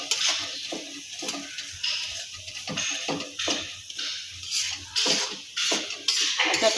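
Chili powder sizzling in garlic chutney over a low gas flame, a steady bright frying hiss broken by repeated soft stirring scrapes, close and continuous with no talk.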